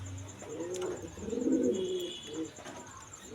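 A pair of racer pigeons, a male and a female, coo softly in a few low, rounded phrases, close by and fairly quiet, with no voices.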